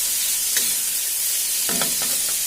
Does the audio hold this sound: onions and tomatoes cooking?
yes